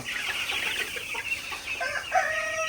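Many twelve-day-old broiler chicks clucking and chirping together in a steady, busy chorus, close by, with a few sharper calls standing out near the end.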